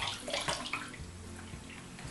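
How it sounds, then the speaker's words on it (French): Tap water runs to wet a dog before a bath, sounding as a soft, fairly faint flowing splash that fades to a quieter trickle. "Il faut bien mouiller son toutou avant."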